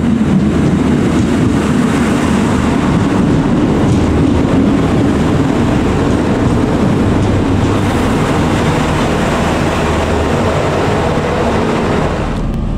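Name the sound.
train travelling to Belfast, ridden on board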